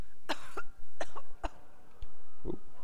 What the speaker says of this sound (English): Cough the other way.